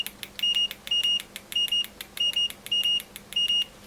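A Fluke 107 multimeter's continuity beeper sounds in quick repeated short tones, about six sharp beeps in a steady rhythm, close and clear, with faint clicks from the original probe leads between them.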